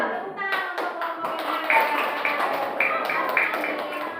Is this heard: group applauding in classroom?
yes